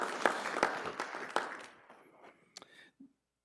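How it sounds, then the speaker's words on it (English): Brief applause from an audience at a school district board meeting, a scattering of clearly separate claps that thins out and stops within about three seconds. "You can clap."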